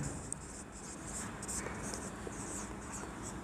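Pen scratches across paper while a geometry proof about congruent triangles is written out, giving a faint, continuous rhythmic scratching with short pauses between strokes.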